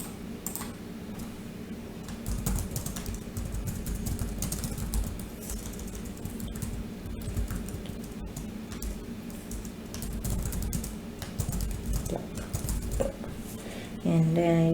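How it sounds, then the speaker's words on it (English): Keys on a computer keyboard clatter in quick, uneven bursts as a product name is typed, close and clear with a faint room hum beneath. "then just type in the name of the product."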